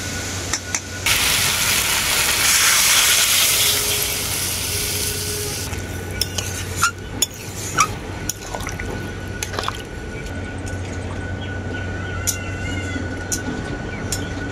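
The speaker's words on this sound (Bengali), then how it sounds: "এখন এর মধ্যে দিয়ে দেবো পরিমাণ মতো জল" Water pours into a pan of spiced vegetables, a steady splashing fill for a few seconds, followed by quieter drips and light clatter from the pan nearby.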